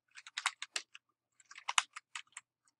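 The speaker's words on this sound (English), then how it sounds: "so I'm typing right here" Close, crisp keystrokes on a computer keyboard while coding CSS in Dreamweaver, a quick burst of taps, a short pause, then another run of typing.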